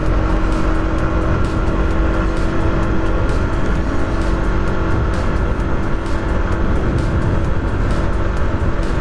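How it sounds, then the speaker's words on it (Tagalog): A smoke-belching vehicle drives past on a road in Pangasinan, its engine rumbling loud and steady throughout amid continuous traffic noise, with no talk. "Grabe namang sasakyan yan. Smoke belching."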